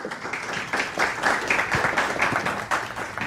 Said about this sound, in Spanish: Un fuerte aplauso para Javier.